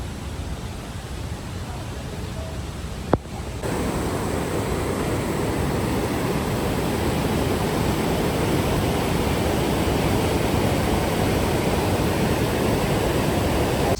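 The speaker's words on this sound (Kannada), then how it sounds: "welcome to ಅಟ್ಟುಕಾಡ್ water falls" Attukad waterfall near Munnar pours as a steady, broad wash of rushing water, loud and continuous, with one sharp click near the start.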